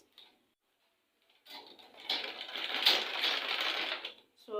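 A sewing machine stitches a seam on a man's trouser, running in a steady buzzing whir for about two and a half seconds after a few brief taps, close and moderately loud.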